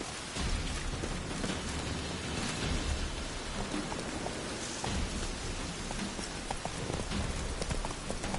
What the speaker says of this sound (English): Rain like this would fetch a fortune in Zelkane.